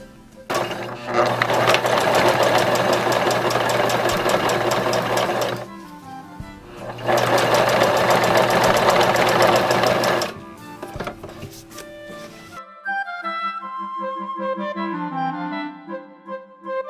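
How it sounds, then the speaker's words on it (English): A sewing machine stitching a T-shirt runs loud and close in two long bursts, then stops, followed by quieter clicks and a fainter whirring. "Now we're ready to go to the sewing machine."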